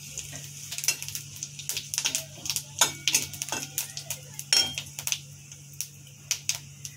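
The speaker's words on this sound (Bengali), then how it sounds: "গরম তেলে দিয়ে দিচ্ছি একটু মৌরি" Fennel seeds and green chillies hit hot oil, producing a series of sharp crackling pops and clinks over a low steady hum, close and fairly loud.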